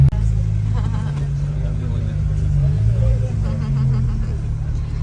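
Deep rumbling engines idle and rev nearby as several cars run together, with people talking over the constant low drone.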